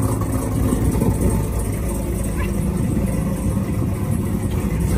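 Modified 2023 Camaro 1LE with a Texas Speed cam idling nearby, a steady low, lumpy engine rumble filling the whole stretch with no breaks.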